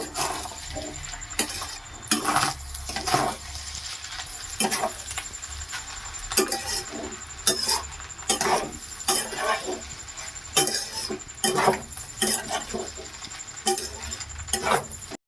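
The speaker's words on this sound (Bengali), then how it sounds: "দিলাম কাজু কিশমিশ, দিয়ে দিচ্ছি সোয়া সস, এটাকে এবার নাড়বো" Restaurant-style fried rice with soy sauce, cashews and raisins is stirred in a pan, making repeated irregular scrapes and clatters with a soft sizzle underneath.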